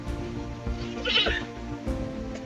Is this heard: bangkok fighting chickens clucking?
no